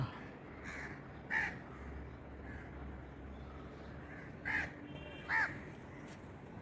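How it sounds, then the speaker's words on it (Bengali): A crow gives three separate caws, the first alone and the last two close together, heard at moderate distance over a quiet background hum. "তার মধ্যে কাকটা দেখেন আহা"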